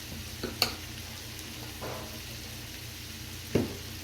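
Chicken pieces cook in a pan as turmeric, red chili and salt are mixed in, giving a faint, low background sizzle broken by two sharp spoon clinks against the pan.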